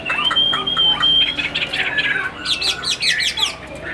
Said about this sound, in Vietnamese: Em đặt cả tay lên lồng để cho nó hót này